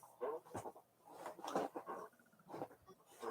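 A dog makes a few short, rough vocal bursts, close and moderately loud, spread across a few seconds with brief gaps between them.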